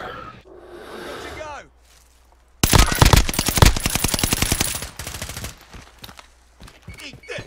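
Bursts of rapid automatic gunfire from an online shooter match on the Caldera map rattle loudly for a few seconds, with players talking over and around the shooting.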